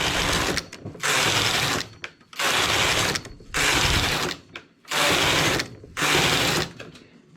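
A domestic knitting machine carriage slides back and forth across the needle bed, knitting rows of stitches in five loud, evenly spaced mechanical passes of about a second each, with brief pauses between them and no talk.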